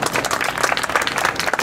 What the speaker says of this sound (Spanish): podeu aplaudir